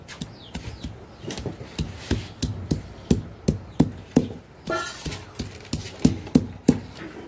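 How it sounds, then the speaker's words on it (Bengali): Green mangoes being pounded for a spicy mango mash, giving a steady series of sharp, close thuds in a regular rhythm, some harder than others, with no talk over them. "এভাবে আমগুলো থিতে করে নিব।"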